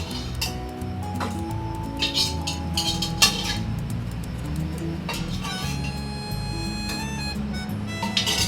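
Utensils and pots being washed in a kitchen sink during home cooking of tinda curry and rice, with scattered metallic clinks and clatter over steady background music.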